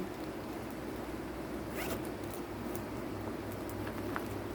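Zipper on a premium flap-top handbag repeatedly pulled open and closed, a close, steady rasping run of zip teeth lasting several seconds with no talking.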